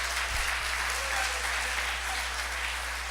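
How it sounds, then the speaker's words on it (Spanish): Church congregation applauding as an offering of praise during a service, a steady, even wash of clapping through the whole stretch with no clear voices on top. "si va a dar esa ofrenda de aplauso, déla con toda libertad"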